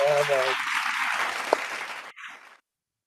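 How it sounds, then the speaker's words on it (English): Applause from a club meeting audience fills the first two and a half seconds as a dense, steady wash of clapping that cuts off abruptly, with a brief tone at the start and no one speaking. "I like those virtual claps."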